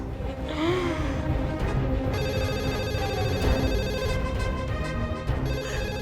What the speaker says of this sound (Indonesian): Itu teleponnya.